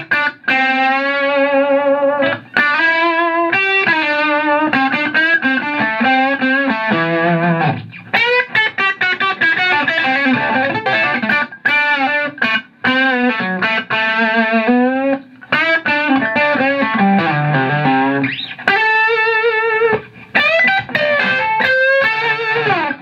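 A 1972 Gibson Firebird V Limited Edition Medallion electric guitar in sunburst plays a loud, sustained distorted riff through both pickups, with chords and bent notes alone and continuous apart from a few brief gaps.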